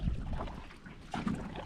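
Kayak paddle strokes on a lake at Kettle Lakes Provincial Park, soft watery splashes and swishes in two brief bursts, close with light wind noise.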